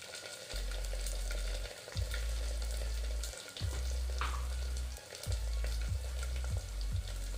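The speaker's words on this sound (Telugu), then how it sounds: "నేను 1 ఫుల్ టేబుల్ స్పూన్ అల్లం వెల్లుల్లి పేస్ట్ చేస్తున్నాను ఇందులో. ఇది కొంచెం వేగనివ్వాలి." A tablespoon of ginger garlic paste frying in oil for prawn pot biryani, giving a continuous close sizzle with a low burner hum and a few spoon scrapes and taps.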